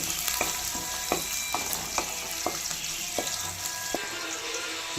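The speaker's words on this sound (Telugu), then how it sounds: "ఉల్లిగడ్డలు కలుపుకోవాలి" Chopped onions fry in a pan for a ridge gourd curry, giving a steady hiss. A spoon scrapes and taps against the pan in a regular stirring rhythm throughout, close and clear.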